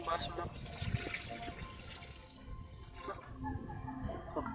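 Water being poured into a pot for coffee at a chilly campsite, a gurgling trickling stream that rises and fades, with people talking over it.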